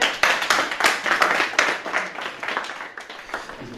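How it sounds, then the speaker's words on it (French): Audience clapping at a France Culture event; a lively burst of close, distinct handclaps with uneven rhythm, thinning slightly toward the end. "On l'applaudit"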